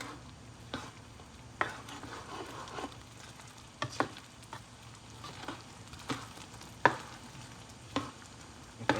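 Apple pie empanada filling stirred in a pan, with soft scraping strokes and a few sharp utensil clicks against the pan over a faint steady sizzle, at moderate level and no voices.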